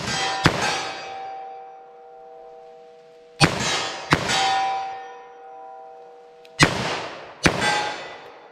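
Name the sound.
38 Special gunshots in a ballistic test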